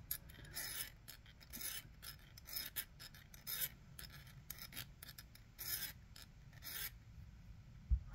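Rapid rasping strokes of a hand file on a multi-tool's wire cutters, close and steady in quick repeated bursts with short pauses, no voice.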